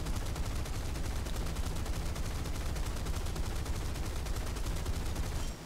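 Guns of an F7F-1 Tigercat aircraft firing in War Thunder: a sustained, loud, rapid stream of gunfire rattling without a break for about five and a half seconds, then cutting off abruptly.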